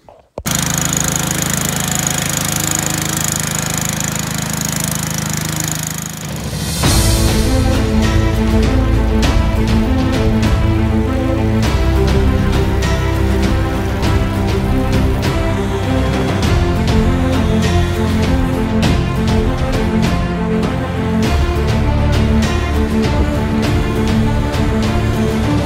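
A lawn mower engine runs steadily and loudly throughout, with a brief dip before surging back at full, close-up volume for the rest of the stretch.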